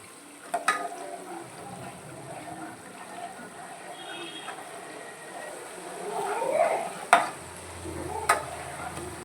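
Butter melting into ghee in a pan bubbles with a faint, low simmer under soft stirring. A few sharp clinks stand out, and the bubbling grows livelier near the end.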